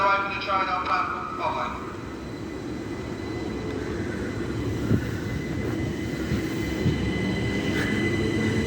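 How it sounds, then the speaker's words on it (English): Southeastern high speed train arriving at Ashford International on a service from St Pancras International to Margate, a steady rumble of wheels on rail with brief squeals early on, and station announcements over it. "the delayed 11:20 Southeastern high speed service from St Pancras International to Margate 395021"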